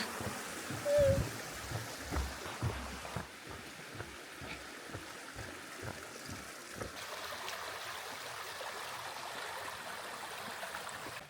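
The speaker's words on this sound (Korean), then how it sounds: "시냇물 소리, 이런 물소리 철출철출 들으시면서 느긋하게 산행하시면 됩니다." A mountain stream in Naejangsan National Park flows with a constant soft rushing and trickling, while footsteps crunch nearby along the trail.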